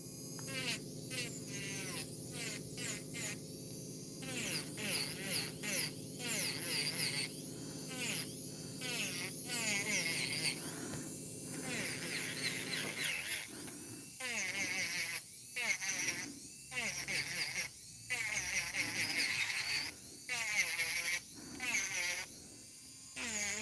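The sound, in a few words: electric nail file filing acrylic nails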